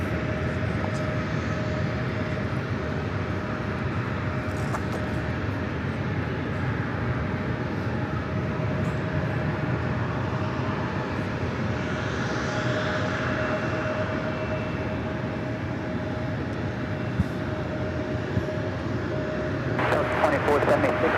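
A Delta airliner on final approach at LAX makes a steady, continuous roar that holds at an even loudness for the whole stretch, rising slightly at the very end.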